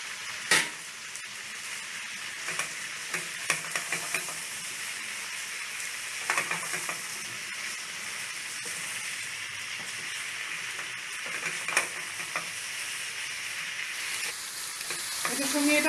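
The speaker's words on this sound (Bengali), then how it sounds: "এবার এই এঁচোড়টার গায়ে মশলাগুলো ভালোভাবে লাগিয়ে এটাকে একসঙ্গে কষবো" Green jackfruit and fried potatoes sautéed with spices in a pan give a steady sizzle with scattered clinks and scrapes of stirring throughout.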